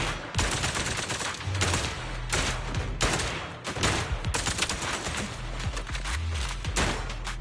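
Gunfire at a shooting range in Zenless Zone Zero, loud repeated bursts of shots in quick clusters with brief gaps, fairly close and continuous throughout.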